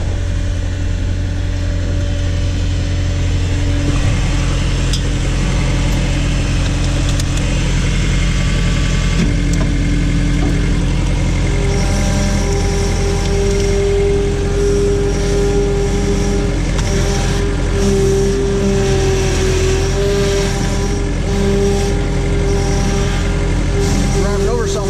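A Case Davis D100 backhoe's diesel engine runs steadily up close, a loud continuous rumble with a shifting pitch as the machine works and backs up.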